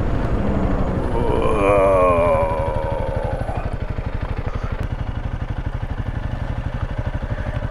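A Yamaha XT250 motorcycle engine putters with a steady rapid thumping beat as it is ridden, close and moderately loud, with a voice talking briefly early on.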